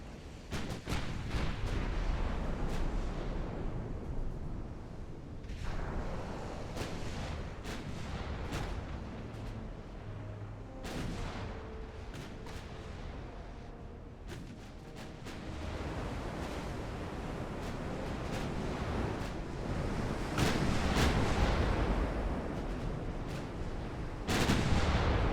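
Battleship guns fire in the naval warfare game Ultimate Admiral: Dreadnoughts, with repeated booming salvos and sharp impacts over a constant roar of sea and wind, some blasts loud and close, others more distant.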